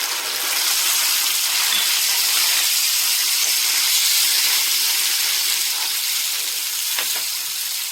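Tomato puree tipped into hot oil for onion chutney, setting off a loud, continuous sizzle and spitting hiss that holds steady close up with no voices over it.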